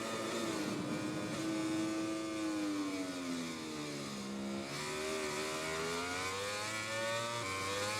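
Motorcycle engine in the video game MotoGP 20 revving and accelerating through the gears, a steady loud whine rising in pitch, dipping at a shift, then climbing again, with no talk.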